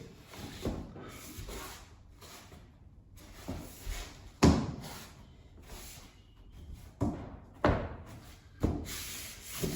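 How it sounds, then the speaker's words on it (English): A vinyl floor plank with a foam backing is scored, bent until it snaps, and the foam is then cut. Nearby rubbing, scraping and a few sharp cracks come in uneven bursts, with no talking. "Score my floor. Turn it over. Push, snap, and then really easy cut on the foam."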